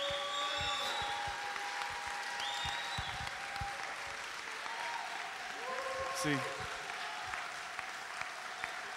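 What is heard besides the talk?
church congregation applause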